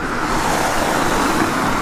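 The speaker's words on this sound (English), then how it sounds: "Just car." A car passes on a road, a steady broadband rush of tyres and engine that stays loud and close throughout with no talk over it.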